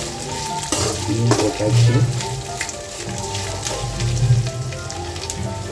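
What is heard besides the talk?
spices frying in a pan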